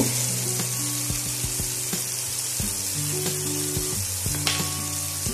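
Tomato cooking down in a pan with nigella seeds and spice paste, a loud continuous fry and sizzle with repeated scraping and stirring knocks from a utensil against the pan, no talking.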